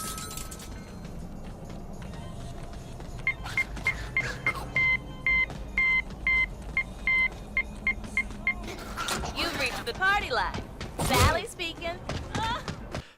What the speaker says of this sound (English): you will hear a 3-digit number in Morse code